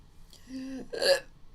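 A single hiccup, close and fairly quiet, a brief voiced catch followed by a sharper vocal burst, with no talk around it.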